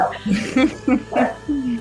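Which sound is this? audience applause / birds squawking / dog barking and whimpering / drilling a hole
dog barking and whimpering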